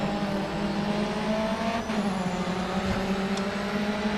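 BMW race car in the GRID racing game, a sustained engine drone with steady harmonics and faint tire squeal streaks, loud and continuous without talk.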